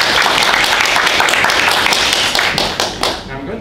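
Audience at a Toastmasters-style general evaluation session bursts into dense, steady applause, loud and close, tapering slightly toward the end.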